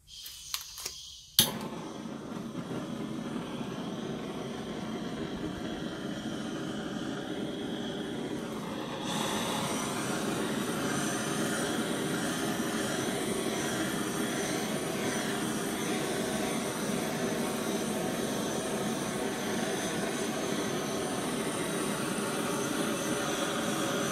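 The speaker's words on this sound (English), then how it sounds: "I'm going to torch it and see what it does" A torch flame roars steadily while heating an object, a broad continuous hiss that grows slightly louder partway through and holds unchanged, after a few brief clicks at the start.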